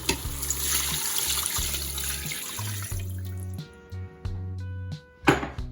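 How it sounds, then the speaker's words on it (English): Beef broth, four cups, poured into an Instant Pot, a steady liquid stream splashing loudly into the pot before tapering off into lighter trickles and a final splash. "I'm going to go ahead and use beef broth, 4 cups. I'll be adding that into the Instant Pot."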